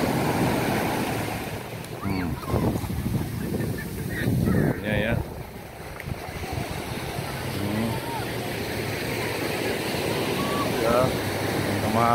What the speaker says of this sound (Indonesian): ombak ukuran ombaknya itu ya